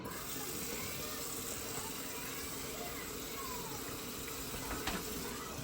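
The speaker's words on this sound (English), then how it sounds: "You want to rinse it in cold water." Cold tap water runs steadily over freshly cooked pasta noodles being rinsed for a seafood pasta salad, a continuous close splashing rush with only a faint knock near the end.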